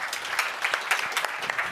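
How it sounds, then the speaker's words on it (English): Audience applause following a tech talk on data and AI at the edge, a short, moderately loud stretch of clapping from a modest crowd, uneven and unaccompanied by speech. "let's give them a round of applause"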